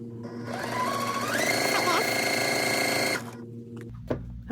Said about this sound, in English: I'm gonna send each one of these through the sewing machine.